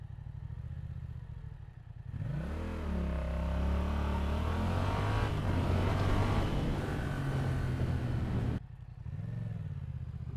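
A Yamaha MT-07 motorcycle with an MIV exhaust line revs loudly and close by, climbing and falling through several throttle blips for about six seconds before settling back to a rumbling idle.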